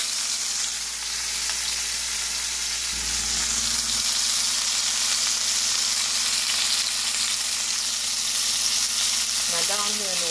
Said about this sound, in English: I'm frying hamburgers today for lunch.